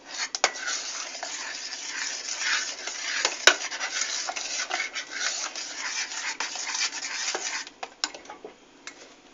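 Thick Turkish milk pudding (keşkül) is stirred in a pot after the heat is turned off, with steady close scraping of a spoon against the metal and occasional sharp clinks.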